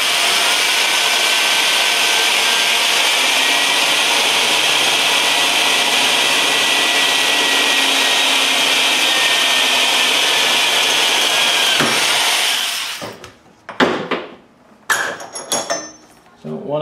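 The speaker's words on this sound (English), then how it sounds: "We'll just put a hole that we can do a plug weld into." A drill boring steadily through a motorcycle frame hoop on a Suzuki GS550 cafe racer for a plug weld hole, a loud continuous whirr for about twelve seconds, then stopping into a few short knocks and handling sounds.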